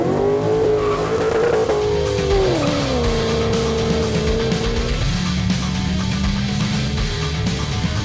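A loud car engine revs and races continuously on public roads, pitch climbing and shifting through gears, with tires squealing on top.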